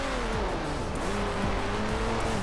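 Steady engine drone of a rally car in the video game Rally Fusion, with rising and falling revs, exhaust rasp continuous and close throughout, no voices.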